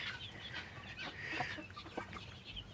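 A young hen clucks softly among small guinea keets, with low, repeated clucks and chirpy peeps scattered through a quiet outdoor scene.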